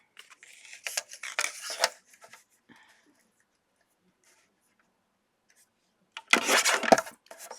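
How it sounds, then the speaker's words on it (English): Leftover card stock scraps are trimmed in short rasping, scraping strokes, a cluster near the start and a louder burst near the end, with near silence in between. "So I just keep trimming until I like what I see."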